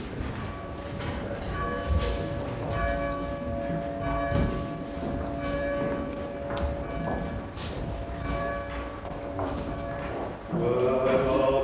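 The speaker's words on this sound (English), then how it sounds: "I will toll the bell and let all the people know." A church bell tolls slowly and repeatedly at an outdoor village pageant in Geddington, each ringing stroke decaying under crowd rustle and a muffled voice, with a louder rattle near the end.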